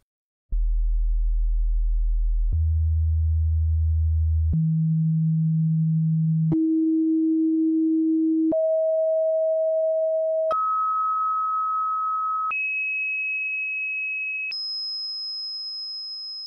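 Pure steady sine wave tones step upward in pitch, one after another, each held about two seconds, from a deep hum to a high whistle.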